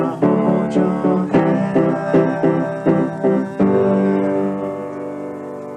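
Solo piano playing the final chorus of a song, a series of loud struck chords in a steady rhythm ending on a long, ringing sustained chord.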